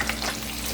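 Salmon fries in a pan, giving off a brief, steady crackling sizzle of hot oil, close and moderately quiet, lasting under a second.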